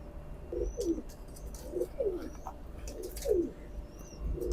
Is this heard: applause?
no